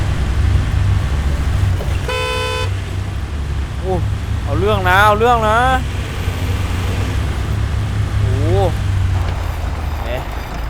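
Engine of a four-door Isuzu pickup in the SnowRunner video game drones steadily under a man's excited speech, with a short horn-like toot partway through.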